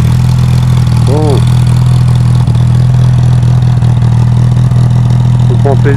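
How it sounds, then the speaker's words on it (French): Car engine runs loud and close with a steady, deep, throbbing hum that barely changes, while voices talk over it. "On prend plaisir à écouter le bruit de cette voiture."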